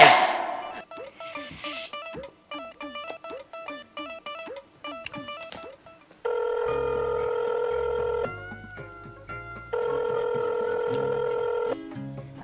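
A phone ring tone repeats in steady bursts after a stretch of plucked music, ringing on with no answer.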